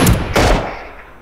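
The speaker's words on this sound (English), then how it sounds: "Shot like 60 bullets." Gunfire in Ring of Elysium: two quick close shots in succession, loud and sharp, trailing off into a fading echo.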